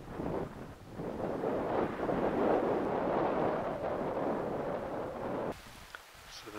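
Strong wind buffets the microphone in a loud, continuous roar near a mountain summit at about 11,300 feet elevation above Brian Head ski resort, surging and easing before dropping off abruptly near the end.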